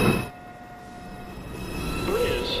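A New York City Subway Downtown Express 2 train approaches Lincoln Center station, its rumble building steadily as high metallic wheel squeals ring out and a rising tone sweeps in near the end.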